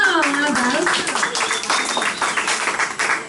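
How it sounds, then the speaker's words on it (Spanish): A class audience at a Catholic teaching session on Marian dogmas breaks into a brief burst of clapping right after a voice speaks. The claps are close and fairly loud, and the applause tapers off quickly. "Muy bien, un aplauso."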